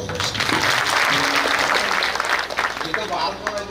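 An audience claps through a devotional bhajan gathering at a memorial event, steady applause mixed with a voice speaking over it.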